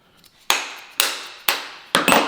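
A small hammer strikes the halves of connecting rods to knock them loose from a billet engine block: four sharp metallic taps at an even, roughly half-second rhythm, close and fairly loud, each ringing briefly before the next.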